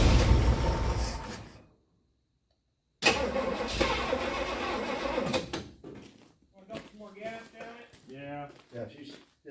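A 1957 DeSoto hot rod engine cranks briefly, goes quiet, then catches and runs roughly for a few seconds before voices talk over its fading sound.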